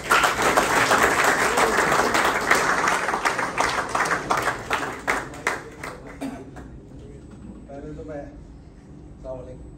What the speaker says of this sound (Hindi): आपके पुरजोर तालियों में मोहम्मद मसरूर साहब।